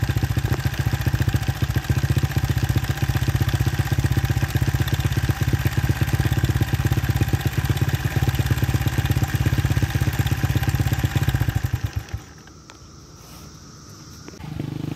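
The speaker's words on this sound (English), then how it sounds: "And it starts right up on first kick. It sounds a lot better and also has a lot more throttle response." A Honda XR70 small-displacement trail bike engine idles steadily after a first-kick start, a loud continuous low putter with a fast even firing rhythm, cutting off abruptly near the end.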